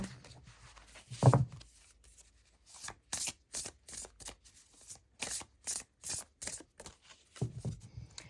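True Love Oracle cards shuffled by hand in a quick series of soft, papery riffles and slaps, a brief rustle first, then a steady run of short bursts close by.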